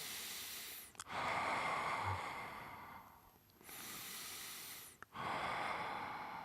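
A person doing a Pilates exercise breathes in long, strong, audible exhalations close by, with two sustained breaths separated by a brief pause and no talk.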